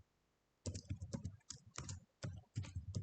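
Keys on a computer keyboard are struck as a terminal command like apt-get install is entered, coming in close, uneven bursts of clicks separated by short pauses.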